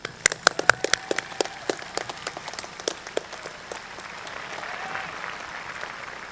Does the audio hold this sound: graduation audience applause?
yes